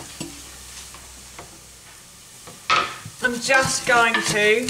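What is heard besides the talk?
onion sizzling in hot oil in a frying pan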